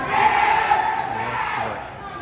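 Fans at an idol live show in Thailand, chanting and cheering together in one loud, sustained, unison call from a nearby crowd that fades slightly at the end.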